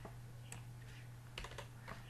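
Typing on a computer keyboard: scattered soft key taps in short irregular bursts over a low steady hum, faint and close.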